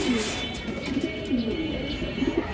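Racing pigeons coo in low, rolling, repeated calls close by over a faint background hiss.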